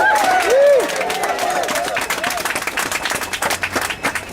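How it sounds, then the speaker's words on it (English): Enthusiastic crowd applause at a beam lifting ceremony on the new Mattapan Health Center construction site: dense, sustained clapping from many hands, with a brief whistle at the start, tapering slightly toward the end. "We have an enthusiastic round of applause for our leader, Dr. Azzy Young."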